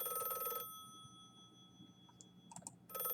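A telephone rings in The Last Time video game: one bright electronic ring burst, a quiet gap with small clicks, then the ring starts again, clear and close with no talking.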